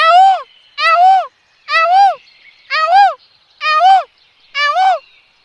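A voice mimics a peacock's call, six loud, nasal, rising-and-falling cries spaced evenly about a second apart with brief silences between.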